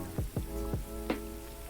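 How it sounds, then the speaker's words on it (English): Steady patter of rain in a VR fishing game, soft and even throughout, with a few distinct droplet-like taps standing out near the front. "this rain is just like ASMR"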